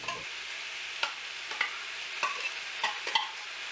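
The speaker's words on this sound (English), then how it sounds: "Give this a really good stir." Garlic and green chilies are stirred in a pan for a gluten-free green chili casserole. A soft, steady sizzle runs underneath, broken by several light spoon clicks and scrapes, with no talking.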